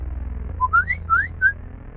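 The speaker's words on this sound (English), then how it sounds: "He threw back his head and let out a slow, appreciative whistle" A man's slow, appreciative whistle of several rising and sliding notes, close and clear over a low steady hum, with no talking.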